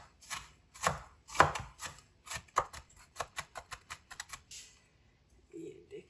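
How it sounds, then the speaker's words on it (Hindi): A knife chops onion into small pieces on a board in a series of crisp, close taps that speed into a quick run, then stop, with a brief murmur near the end. "अब प्याज की कटिंग करेंगे। प्याज को भी इसी तरह हम छोटा छोटा कर लेंगे।"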